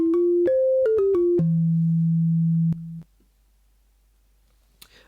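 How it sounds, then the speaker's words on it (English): A pure sine wave oscillator tone, controlled via MIDI in Max, steps through several short pitches, then holds one low steady note for about two seconds before cutting off into near silence. "we're also controlling the frequency in hertz of a sine wave oscillator"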